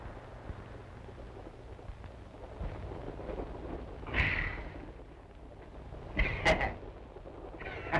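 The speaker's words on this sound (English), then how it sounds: "Like we're running into a terrible storm" Thunder from a terrible storm, low rumbling under a steady rushing background, with a few sharper cracks and swells spaced out across the clip.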